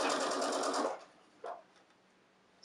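A sewing machine stitches a seam around the bottom curve of a fabric face mask, running in a steady rapid whir for about a second before stopping, followed by a small knock.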